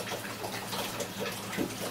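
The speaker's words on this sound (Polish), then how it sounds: "Przygotowuję kąpiel." Very warm water running into a bathtub for a cleansing bath with baking soda and salt, a steady close gushing rush that holds without break, no voices.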